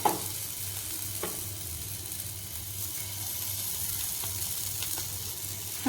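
Soyabean cutlets fry in oil on a tawa, a continuous close hiss of sizzling with a couple of faint clicks, steady and moderately loud, no talk.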